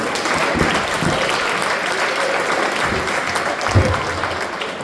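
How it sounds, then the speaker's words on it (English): Youth football presentation audience gives a round of applause for an under-12 team, loud, close, sustained clapping with a few heavier claps standing out and murmuring beneath. "I think that's worth a round of applause"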